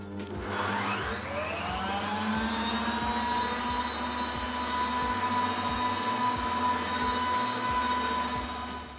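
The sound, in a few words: electric mixer beating eggs and sugar at full speed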